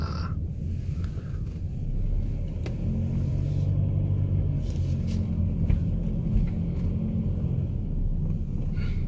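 A car rolls into a golf course parking garage in winter, with a steady low engine rumble and road noise throughout and no talking.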